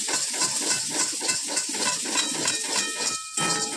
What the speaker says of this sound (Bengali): মশলাটা দেখো ভাজা হয়ে গেছে।